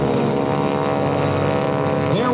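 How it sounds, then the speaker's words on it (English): A Stearman biplane at the Blue Angels homecoming airshow roars past loud and close, its steady radial-engine and propeller drone filling the air with a rising, shifting pitch at the end. "as noisy as we hear this airplane here"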